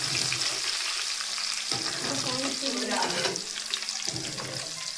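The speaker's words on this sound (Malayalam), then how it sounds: "കുറച്ച് കറിവേപ്പിലയും ഉണക്കമുളകും കൂടെ നമുക്ക് വറുത്ത് കോരിയെടുക്കാം" Curry leaves and dried red chillies frying in hot oil for homemade mixture, a continuous bright sizzle with occasional stirring scrapes and faint background talk.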